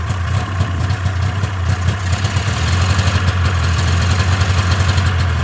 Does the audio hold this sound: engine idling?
yes